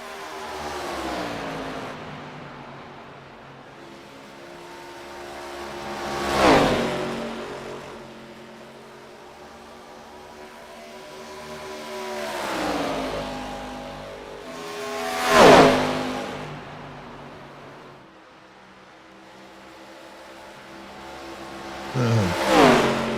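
Race cars in a KKA Grayson Series event at Charlotte rev and roar past as one leaves the pits, with three loud passes swelling and fading about every nine seconds over a steady engine drone.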